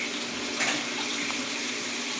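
Water runs steadily from a kitchen tap into a pan while cooking vegetables and liver, a continuous close hiss and splash with no talking.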